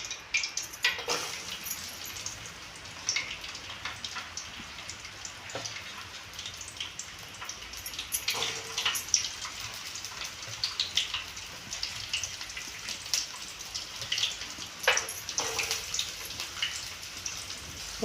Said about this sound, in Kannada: ನೋಡ್ರಿ, ಉಳ್ಳಾಗಡ್ಡಿ ಚೆಂದಂಗೆ ಹುರ್ಕೊಂಡವ್ರಿ